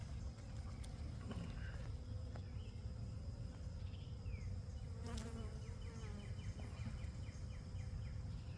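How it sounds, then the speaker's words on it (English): Honeybees buzz steadily at an open hive during an inspection, a dense, continuous drone close by, with a few individual bees flying past the microphone and no talk. "this population of bees, honeybees, is just, it's amazing how well they're doing"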